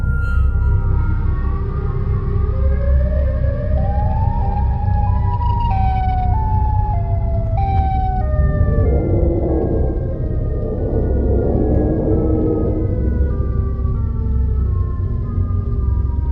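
Wailing siren from the Siren Head creature in a dark horror animation, long gliding pitched tones that rise and fall continuously and loudly over a low rumbling bed, with no talking.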